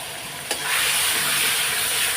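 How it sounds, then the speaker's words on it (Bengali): A spice paste of cumin, ginger, tomato and green chilli fries in a pan with a loud, steady sizzle and a brief clatter near the start. No one speaks. "এর মধ্যে জিরে আদা টমেটো আর কাঁচা লঙ্কা তো দিয়ে দিলাম সব এক এক করে কষিয়ে নেবো এখন"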